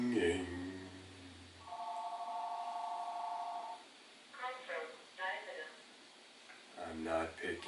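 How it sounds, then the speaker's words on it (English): A telephone rings with one electronic warbling tone burst lasting about two seconds. Speech-like sounds come before it, and voices start again after a quiet gap. "The phone is ringing."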